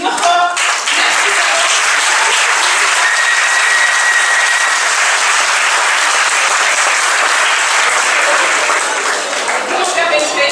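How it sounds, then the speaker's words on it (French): Sustained, loud audience applause at a digital communication day event in Saint-Louis, dense clapping filling the whole stretch with no pause, near and even throughout. "sous vos applaudissements, Niokor, merci"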